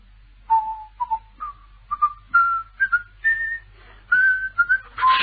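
A man whistles a slow, clear tune alone, short rising phrases separated by brief pauses, fairly close and quiet.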